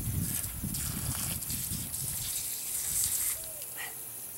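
Water gushing steadily from a broken drip irrigation line outdoors, a continuous rushing spray that weakens somewhat toward the end, with a faint squeak near the close.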